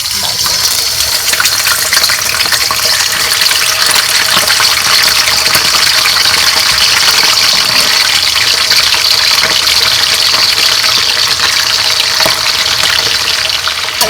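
Pomfret fish frying in hot oil for fish biryani, a dense, steady hiss and crackle that stays loud and unbroken throughout.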